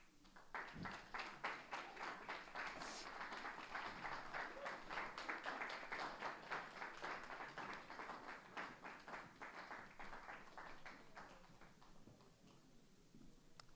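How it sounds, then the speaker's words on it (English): A conference audience applauds as panelists walk onto the stage, a steady, moderately distant round of clapping that holds for over twelve seconds and thins slightly near the end. "please give a round of applause for our panelists as they enter"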